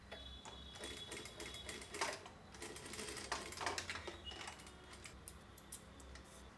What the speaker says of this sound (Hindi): मशीन से ही टाँक, ये 2-4 सिलाइयाँ आगे पीछे करके मैंने उस पैड को वहाँ पे अटैच कर दिया है।